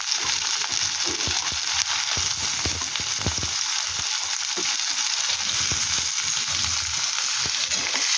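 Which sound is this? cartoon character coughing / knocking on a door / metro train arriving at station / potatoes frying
potatoes frying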